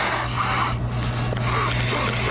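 A two-year-old boy who has a rebuilt larynx breathes hard while blowing up a toy. The effortful breathing is close and sits under a constant low hum.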